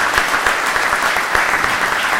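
A community meeting crowd gives a strong round of applause for the police officers, a dense burst of many hands clapping at close range, steady and without speech.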